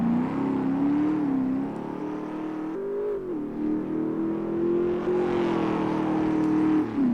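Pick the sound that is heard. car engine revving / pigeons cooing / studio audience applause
car engine revving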